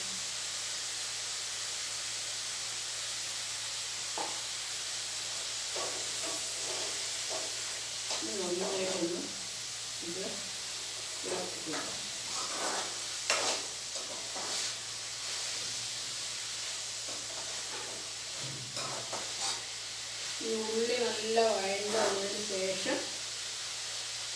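Sliced onion for chicken curry sizzles in a hot pan with a steady hiss throughout, while a person talks intermittently over it.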